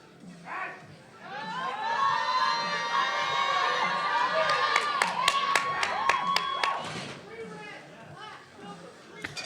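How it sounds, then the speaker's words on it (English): A crowd at a powerlifting nationals meet erupts after a successful lift: loud cheering, whoops and high shouts swelling and holding for several seconds, with scattered claps and a voice rising over the din near the end. "The crowd is going crazy for that"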